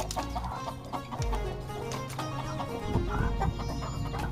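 A native country-breed rooster clucks in short bursts at moderate distance, with background farmyard noise and no talking.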